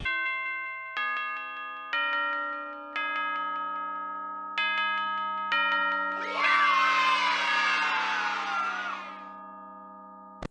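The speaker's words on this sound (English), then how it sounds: "when you survive, you hear the bell chime, the celebration, and you feel amazing" Bell chime from the Five Nights at Freddy's horror video game rings repeatedly in a steady sequence, then a loud burst of children cheering and shouting joins in and swells over the final chimes.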